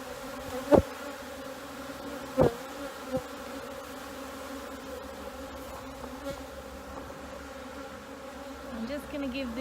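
Honeybees hum around an opened hive during an inspection, a faint steady buzz close by with a few sharper passes of single bees near the microphone, no talking.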